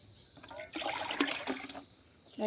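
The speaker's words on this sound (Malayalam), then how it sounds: "ഇതിപ്പോൾ ഈ തക്കാളിക്കും വെണ്ടയ്ക്കും ഒഴിച്ച് കൊടുക്കട്ടെ" Onion-peel fertilizer liquid poured onto tomato and okra plants in a garden, a faint short splashing trickle that swells and fades over about a second and a half.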